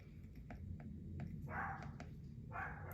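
A pet dog barks in short sharp bursts in the background of a quiet room, several quick yaps at first and then two longer, louder barks, all faint and somewhat distant.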